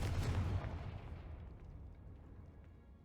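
The Confringo blast spell going off in Hogwarts Legacy, a single deep booming explosion at the start that rolls off into a long, fading rumble.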